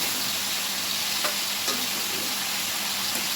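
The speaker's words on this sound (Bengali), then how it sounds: "আমি মাছগুলো উঠিয়ে নিয়ে বাকি মাছগুলো ওই করে ভেজে নেব।" Pabda fish frying in hot oil in a pan for a cauliflower curry; a steady, close, hissing sizzle throughout with a couple of faint clicks, no talking.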